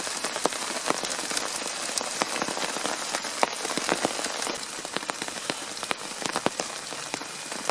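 Steady rain falling in a Florida spring thunderstorm at a hammock campsite, a dense continuous patter on surfaces with frequent sharp close drops hitting, no voices.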